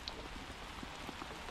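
Rain hits hard outdoors at a diamond mining site, a dense, steady hiss of drops with scattered patters on nearby surfaces, faint and continuous with no voices.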